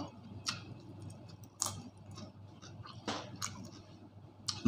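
Someone chews kimchi with nasi lemak in a few soft, close crunchy bites spaced a second or so apart over a quiet background.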